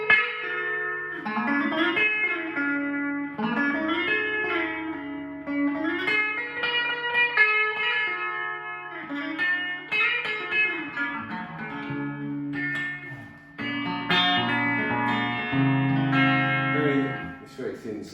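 Electric guitar, a Mark Speer Stratocaster played on its Mark Speer pickup position, ringing out bright, thin-toned chords and melodic phrases with a touch of reverb, loud and continuous for the whole stretch.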